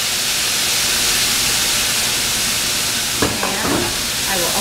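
Loud, steady sizzle of beef frying in hot oil for Vietnamese bun bo nam bo, close up, with a few sharp crackles and spatters partway through.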